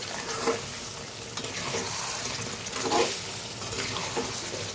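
Goat meat with papaya and potato frying in a pan, a steady close sizzle with brief swells of stirring, no voices.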